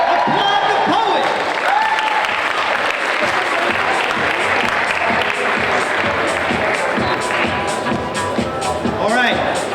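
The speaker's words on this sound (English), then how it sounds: "Applaud the poet." Audience at a ninth-grade high school poetry slam applauding a poet, dense sustained clapping with cheers and crowd chatter mixed in, loud and close for the whole stretch.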